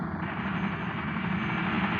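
A helicopter in flight, its steady engine and rotor drone holding an even level throughout at moderate loudness, with no talk over it.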